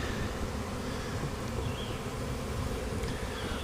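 A dense, steady buzzing of many bees swarming close by, a continuous low hum with no voices.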